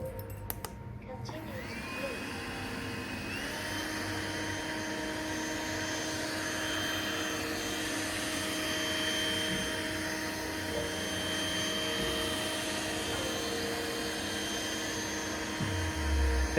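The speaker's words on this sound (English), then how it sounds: "And now start the LuBlueLu Vacuum." A LuBlueLu lidar robot vacuum runs with a steady motor whine and a broad fan hiss, faint and even, rising slightly in pitch as it starts and holding throughout with little variation.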